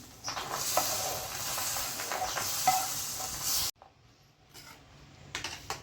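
Roasted makhana (fox nuts) tipped into simmering milk kheer and stirred in a pan: a busy scraping, sizzling stir for a few seconds, then it drops to near quiet with faint light clinks and stirring.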